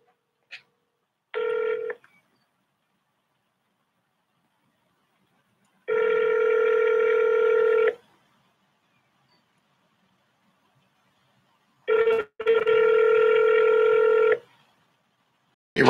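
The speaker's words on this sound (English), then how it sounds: "I'm calling former Oakland Mayor Elihu Harris right now." A telephone call being placed: a short dial beep, then repeated ringback tones in long, evenly spaced bursts separated by silence, clear and close.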